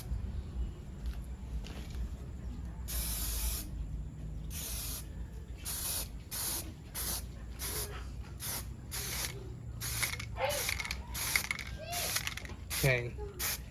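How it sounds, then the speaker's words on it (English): Short bursts of white spray paint hiss from an aerosol can onto a Transformers Seeker figure, a dozen or so quick, close spritzes in an uneven rhythm with brief pauses between them. "So just gonna spray everything white once more."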